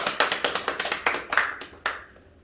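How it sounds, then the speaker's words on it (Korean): Congregation clapping at a Christmas service in a church, a burst of scattered handclaps that thins out into a few last claps and fades. "박수로 함께 축하하겠습니다."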